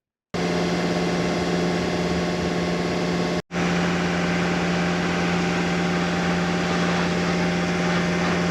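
A truck engine idles close by, a steady drone with a strong low hum, broken by one brief dropout before it carries on unchanged.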